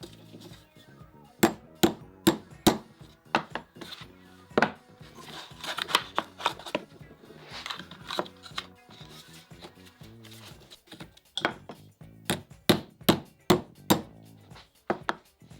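Sharp hammer blows drive nails into wood in quick bursts, several hits at a time with short pauses between, ringing with a bright, metallic knock.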